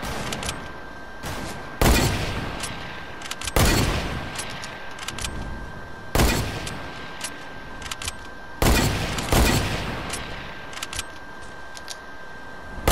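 Rifle shots in a first-person video game, sharp loud reports spaced a second or two apart, about eight in all, over a steady background hum.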